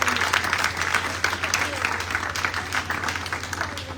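An audience at a public interview claps to welcome the guest, Tomàs from the talent show Eufòria, a steady, dense round of applause at moderate volume with a faint low hum underneath.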